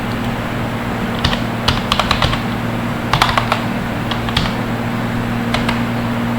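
Typing on a computer keyboard while entering a formula in an Excel spreadsheet, short clusters of crisp clicks with pauses between, close and clear over a steady electrical hum.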